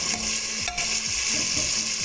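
Tomatoes frying in a pan with salt, stirred while they soften for an egg biryani, giving a steady close sizzle with a few scraping stirs of the spoon and no voices.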